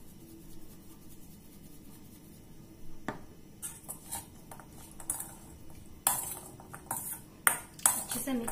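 Spoon stirring aloo chaat masala in a metal bowl for a Kolkata street-style aloo kabli: quiet at first, then a run of sharp scrapes and clinks against the bowl growing busier and louder toward the end, close up with no talk.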